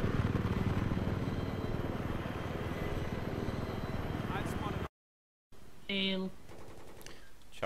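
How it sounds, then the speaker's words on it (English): A helicopter in the Battlefield 3 video game gives a sustained rotor chop thick with gunfire bursts, loud and near, then cuts off briefly before a player speaks over game effects. "Chopper."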